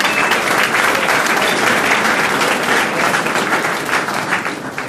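Loud, sustained crowd applause at a startup incubator launch party, a thick wash of many hands clapping together for the event's DJ, holding strong throughout.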